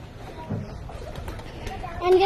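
Lakkhi pigeons in a loft give soft, low cooing calls, heard close by under people talking, with a brief brighter sound at the very end.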